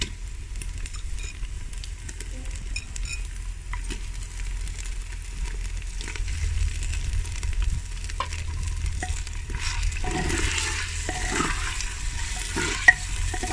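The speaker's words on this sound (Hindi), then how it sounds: "अच्छे से इसको फ्राई कर लेते हैं, यानी कि भून लेते हैं।" Boneless chicken sizzles steadily as it fries in a pan, with occasional scraping and stirring strokes that grow busier toward the end, close and continuous with no talking.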